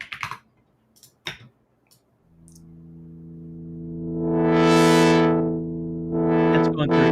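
Synth chords from a chord-maker MetaSound in Unreal Engine swell up after a few keyboard clicks, a sustained tone with a brightening filter sweep that briefly dips, then returns loud, with no talking.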